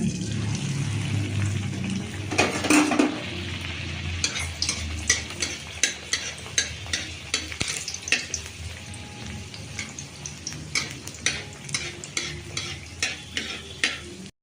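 Kachoris made with chana dal fry one by one in hot oil, with a continuous bubbling sizzle, a loud burst of spattering early on, and a regular series of scraping stirs and clinks through the rest.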